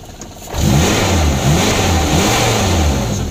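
After a brief quiet start, a 1993 Suzuki Katana GX engine revs up loud and close, then holds a steady, smooth throbbing rumble with slight rhythmic pulsing.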